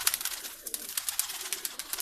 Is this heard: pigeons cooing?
yes